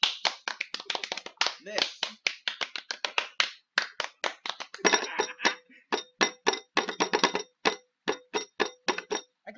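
Bare hands clap out a tune in quick, close, crisp bursts, with short pauses between phrases.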